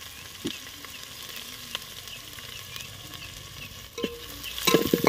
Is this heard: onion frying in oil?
yes